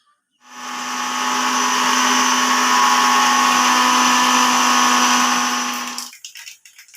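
A kitchen mixer grinder whirs steadily at high speed for about six seconds, grinding boiled chickpeas for a village-style Kerala chickpea curry, then cuts off with a brief rattle of the jar.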